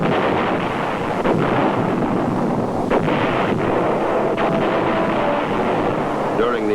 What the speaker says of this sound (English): During the operation, massive artillery was employed.